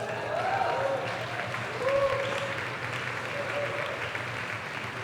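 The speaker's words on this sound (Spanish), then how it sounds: "un fuerte aplauso a Karen" A church congregation gives a strong round of applause as a preacher's wife comes up to the front. The clapping is moderate and steady throughout, with some voices and cheers rising briefly above it.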